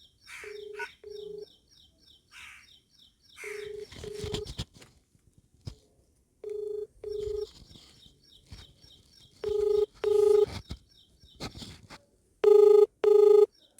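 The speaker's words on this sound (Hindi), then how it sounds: "चलो भाई, फोन मिला दिया है" Repeated ringback tone of an outgoing phone call, steady paired bursts with short gaps between them, clear and close, with some faint background noise and no talking.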